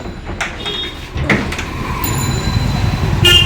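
A door scrapes and rattles as it is tugged open with effort, followed by a louder clunk and continued rumbling scraping close by.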